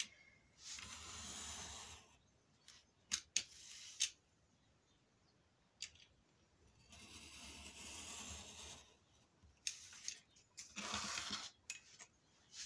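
Scissors cutting paper or card to make rectangular windows in a handmade window album, heard as several separate bursts of crisp snipping and rustling with quiet gaps in between, close by, with no talking.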